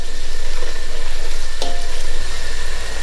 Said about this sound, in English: Now we're going to open it and just give it another stir.